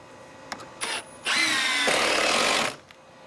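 A power drill drives 3-inch screws into sunroom framing: a couple of brief whirs, then one loud, sustained high-pitched drilling burst of about a second and a half, close by, with no voices.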